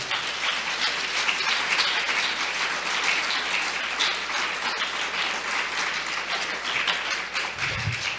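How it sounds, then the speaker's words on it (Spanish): A church congregation applauds with loud, sustained clapping that fills the room evenly for several seconds without a break. "Denle un fuerte aplauso al Rey"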